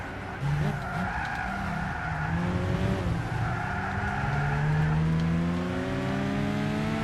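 Race cars in Gran Turismo 6 including a Celica GT4 on a short circuit, engines whining and shifting pitch with long tire squeal and skidding through an overtake, steady and loud with no speech.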